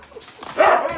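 Several hungry old foster dogs, Husky-type, bark and whine together in a loud, close, continuous burst that swells in the second half.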